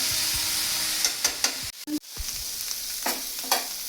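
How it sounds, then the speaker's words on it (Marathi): Soy sauce and chili vinegar poured into a hot pan of vegetables, giving a brief sharp hiss and a short drop in sound, followed by close spatula stirs and a steady sizzle. "आता यात घालत आहोत आपण 1 चमचा सोया सॉस, चिली व्हिनेगर"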